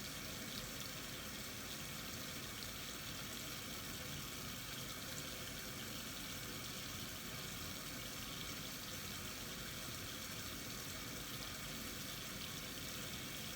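Tap water running steadily over hands being washed, a continuous close broadband hiss and splash with no break or talking.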